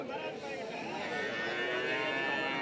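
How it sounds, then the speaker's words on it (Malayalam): Cattle at a livestock market in Tamil Nadu let out a long, drawn-out moo at moderate distance, with faint crowd voices murmuring in the background. "ചന്തയിൽ കന്നുകാലികൾ കുറവാണ്"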